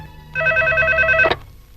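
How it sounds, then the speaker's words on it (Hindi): A telephone rings once in a short electronic trill, loud and close, stopping abruptly with a click. "रिंग हो रही है।"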